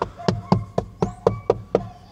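Knuckles rap on the hard plastic door trim inside a Honda City EX hatchback, giving eight sharp, evenly spaced hollow knocks in quick succession, close and clear.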